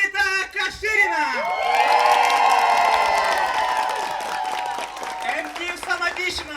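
An audience in a hall bursts into loud, sustained applause mixed with whoops and cheering, swelling for several seconds before tapering off, with voices shouting over the clapping.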